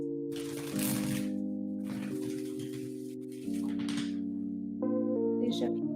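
A deck of tarot cards is riffled and shuffled in quick papery bursts, close and crisp, over a steady background of sustained musical tones.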